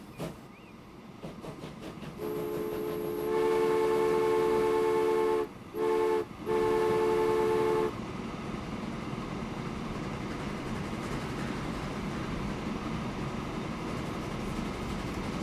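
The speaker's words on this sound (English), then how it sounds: "because the other train's coming over the track" A train in Transport Fever rumbles along the track, its loud horn sounding for several seconds in three blasts with short breaks, then the steady rolling clatter continuing alone.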